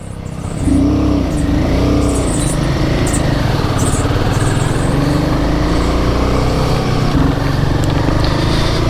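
A vehicle engine labours steadily in first gear on a mountain road in Kinnaur near Spiti Valley, a continuous loud drone with low rumble and road noise lasting throughout, no talk.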